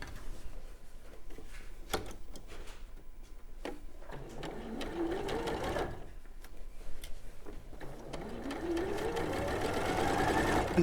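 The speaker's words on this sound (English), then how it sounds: "And try not to sew over your pins." A sewing machine stitches quilt pieces in quick bursts, its needle whirring and ticking close by, pausing and restarting several times, with the machine running longer toward the end.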